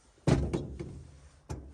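Three or four heavy thuds of a hammer striking, a quick pair followed by a softer knock and a final blow after a pause.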